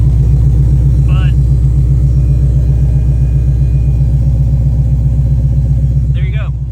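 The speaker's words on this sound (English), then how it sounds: "I still leave the car running." A Ford Mustang with a swapped-in Coyote engine idles steadily and loudly close by, a deep even rumble throughout, with a couple of brief high squeaks standing out above it.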